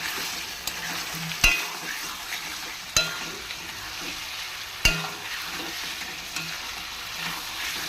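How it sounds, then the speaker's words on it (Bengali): Eggs sizzle steadily in a pan on a gas stove while being stirred, with a few sharp spatula knocks against the pan spaced a couple of seconds apart. "ডিমগুলোকে দিয়ে ভালো করে কষিয়ে নেব।"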